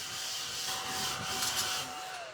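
A small handheld dust buster vacuum whirs with a steady motor whine while it rubs and scrapes across a crafting table, picking up paper bits, brief and close.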